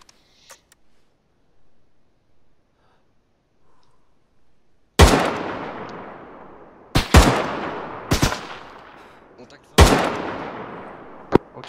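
Gunfire in the video game Arma 3: after a quiet opening, four loud, sharp shots crack out at uneven intervals, each ringing off in a long echoing tail.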